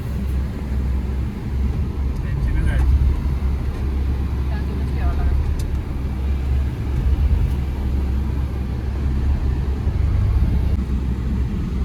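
A car drives through a farm house property toward a mango orchard, its engine a steady low rumble throughout, with faint rattles and knocks on top and no talk.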